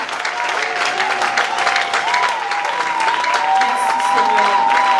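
A church congregation applauding during a worship service, with sustained dense clapping close by and a voice sounding over it.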